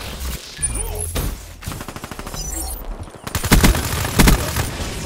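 Automatic and single-shot gunfire in a Call of Duty: Black Ops 3 team match on the Nuketown map, loud bursts of rapid shots separated by brief pauses, with heavier volleys toward the end.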